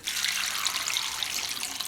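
Water pours steadily into a pot of puréed lentil and barley soup, a continuous bright splashing rush, close and fairly loud, with no talking.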